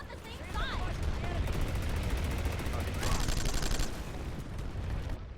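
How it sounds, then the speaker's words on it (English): Rapid automatic gunfire and explosive bursts from the online shooter game Planetside 2, dense and continuous over a low rumble, with a louder burst midway and voices mixed in. "Stop shooting! We're on the same side!"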